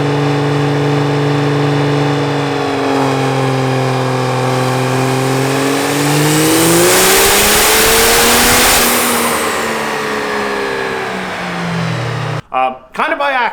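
A truck engine of about 2,090 horsepower revs hard on a dyno, a loud sustained drone climbing in pitch, peaking and then dropping away, with speech over it.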